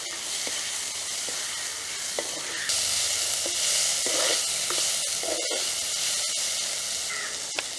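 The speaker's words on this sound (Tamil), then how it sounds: "சேர்க்கிறோம் இடித்து வச்சிருந்த பூடு இஞ்சி அதையும் சேர்த்தோம்" Crushed garlic and ginger, added with chopped shallots, sizzle and fry in a pan in a village kitchen in Jaffna, a constant loud crackling hiss broken by occasional stirring scrapes.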